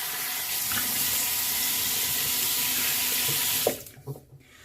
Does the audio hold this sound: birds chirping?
no